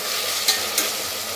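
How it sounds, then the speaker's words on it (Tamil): Tomatoes sauté in an open pressure cooker for one-pot tomato rice, giving a soft, even sizzle with two brief spoon scrapes as they are stirred. "இப்போ தக்காளி வந்து நல்லா வதங்கிட்டு இருக்கட்டும்"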